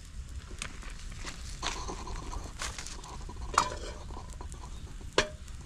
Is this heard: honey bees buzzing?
no